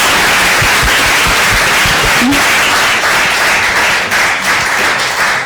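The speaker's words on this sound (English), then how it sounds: "Everybody give a round of applause." A student debate audience claps in a dense, steady round of applause, loud and continuous throughout with no pause.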